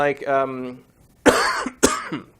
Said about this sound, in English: I'm developing a cough